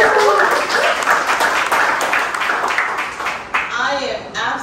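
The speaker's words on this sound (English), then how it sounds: "Give yourself a round of applause." An audience at a candidate forum on economic development and entrepreneurship applauds, a dense wash of clapping with a few cheers. A speaker's voice cuts in briefly over it near the end.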